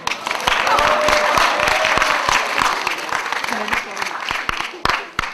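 Audience applause at a college annual day music and poetry performance, a broad wash of clapping that swells, then thins into scattered individual claps toward the end.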